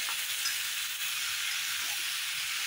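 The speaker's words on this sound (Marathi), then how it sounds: "आता ही सर्व भाजी ह्याच्यात परतायची आहे।" Vegetables with tomato, fresh pavta beans among them, sauté in a pan for biryani, giving a steady close sizzling hiss with no talk.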